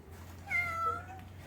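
At a cat shelter, a cat gives one drawn-out, plaintive meow of moderate loudness over a low steady hum.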